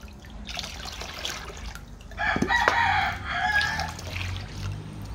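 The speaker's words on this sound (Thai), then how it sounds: "ขออภัยนะคะทุกคนเสียงไก่นะ" A rooster crows partway through, moderately loud over background noise and soft splashing while rice-wash water is ladled into a bottle, with no one speaking.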